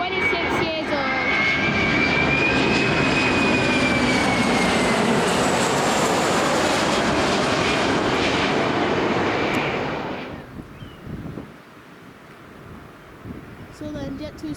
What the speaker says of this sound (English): This aircraft is a Boeing 737-300, 26 years old.